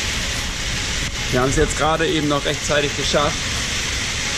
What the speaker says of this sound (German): Es regnet gerade ein bisschen.